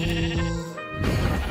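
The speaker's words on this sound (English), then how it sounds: "Whoa, let's put down a sheep." A sheep in the video game Minecraft bleats loudly and close, giving two wavering calls one after the other with no talking.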